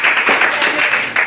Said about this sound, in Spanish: Demos un aplauso a nuestro Dios